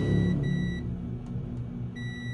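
A multimeter's continuity beeper sounds as its probes touch a shorted capacitor on a laptop motherboard: two short, clear electronic tones in quick succession, then a third starting later, over a low background hum.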